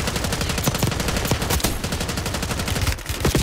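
Pistol fire in a multiplayer shooter video game, a quick string of sharp, close gunshots cracking in an uneven rhythm over a busy game background, with no talking.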